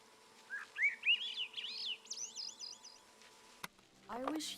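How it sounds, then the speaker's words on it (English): Bird in the video game SEASON: A Letter to the Future sings a run of rising, warbling whistled phrases, then quick trilled notes, fairly close and clear over a low steady ambient hum, followed by a brief click and a lower rustling call. "What an interesting sounding bird."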